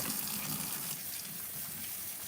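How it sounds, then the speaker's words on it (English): Hands being washed under a running kitchen tap, a steady close gush of water splashing into the sink without a break and no talk over it. "Washing hands. I just want to get the onion off my hands."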